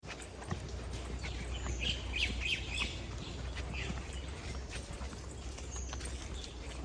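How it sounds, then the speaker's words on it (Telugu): Birds chirp and tweet in scattered bursts along a hill trekking trail at Nandi Hills, set against steady outdoor background noise with a soft rhythmic clopping underneath. "ఇక్కడ బర్డ్ సౌండ్స్ వినండి ఎంత బాగుందో"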